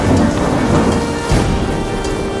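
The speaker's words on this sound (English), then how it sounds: "As thunder crashes and eerie sounds fill the air" Thunder crashing over steady heavy rain in an AI-generated movie scene, with a loud rolling rumble and a sharper crack midway; no voices.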